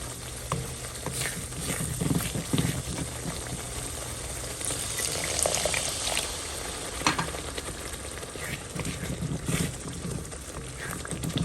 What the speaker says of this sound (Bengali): একদম ভাজা ভাজা হয়ে গেছে, এখন একটু পানি দিয়ে দেবো।